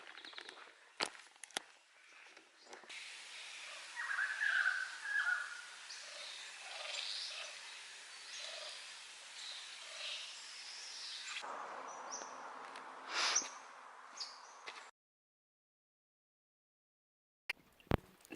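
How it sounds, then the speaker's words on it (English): Faint bird calls chirp in quiet, misty rain at the Grand Canyon, scattered over a soft hiss of drizzle with light footsteps, then a sudden cut to near silence before a few sharp knocks at the end. "there's gonna be more birds and more bird sounds and stuff"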